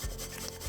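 Fresh garlic rubs against a fine grater in a kitchen while a chicken wing sauce is made, a brief, close, steady rasping scrape heard on its own.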